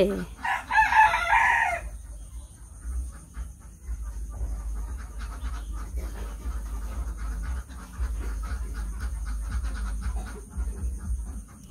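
A rooster crows loudly and close at the start, then chickens cluck quietly for the rest of the clip over a low, steady background rumble at a place that keeps both ducks and chickens.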